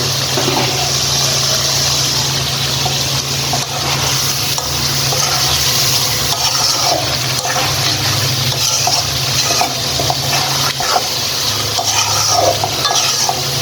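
Broiler chicken curry is stirred and fried in an open pan, giving a steady close sizzle with scraping and stirring noises over a constant low hum.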